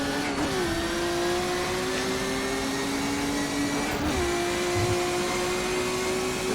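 BMW 320 IMSA GTO racing car engine at Sebring in the rFactor 2 simulator, a loud, steady high-pitched drone that rises in pitch as it accelerates, drops briefly at a shift, then climbs again.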